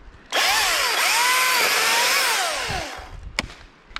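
An Echo DCS 2500T battery-powered top-handle chainsaw whines up loudly and close, holding a high rising and dipping motor pitch for about two and a half seconds before spinning down to quiet.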